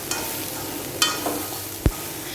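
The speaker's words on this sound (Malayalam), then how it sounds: "എന്നിട്ട് നല്ലോണം ഒന്ന് മിക്സ് ചെയ്ത് കൊടുത്തിട്ട് നമുക്കിതിൻ്റെ ഫ്ലെയിം ഓഫാക്കാം." Green gram stir-fry (payaru thoran) being stirred in a pan, a soft, steady sizzle with a few scraping strokes and one sharp knock of the utensil against the pan, close and alone.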